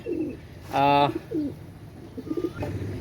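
Pakistani pigeons, a breeding pair, coo up close in a few throaty, rolling calls, with soft murmuring between them.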